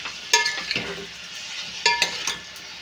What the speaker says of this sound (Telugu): రొయ్యలు ఉల్లిపాయలు బాగా ఫ్రై చేసుకోవాలి